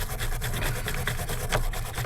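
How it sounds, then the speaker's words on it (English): A small brush scrubs the lead end of a battery terminal on an 80 Series Land Cruiser, giving a steady, close rasping rub with quick repeated strokes and a low engine-like hum underneath. "I'll brush off this terminal."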